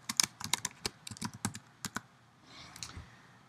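Quick bursts of typing on a computer keyboard, close and clear, with irregular clicks and short pauses between runs of keystrokes.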